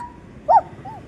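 A voice imitates a crying puppy, giving one short high whimpering yelp in the middle, followed by a fainter trailing whine.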